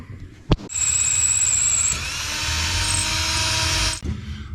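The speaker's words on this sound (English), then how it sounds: "I just drilled a 1/4 inch hole through the center of it" A power drill bores a 1/4 inch hole through a Thermoquad carburetor part, a loud steady high-pitched whine of about three seconds after a brief knock, with a short pitch shift midway before stopping.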